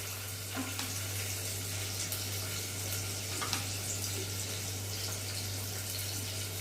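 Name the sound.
onion frying for khichdi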